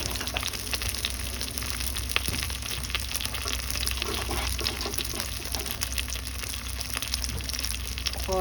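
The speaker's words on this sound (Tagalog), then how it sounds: "Habang ako ay naghuhugas. Hugasan ang mga pinagamitan." Tap water running steadily over used cooking utensils in a kitchen sink, a continuous close hiss and splash with faint clinks, no talking.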